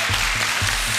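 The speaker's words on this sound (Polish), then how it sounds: "Brawa dla Kamila" A studio audience on a Polish game show applauds a contestant named Kamil, a dense, continuous wash of clapping for about a second with no talk over it.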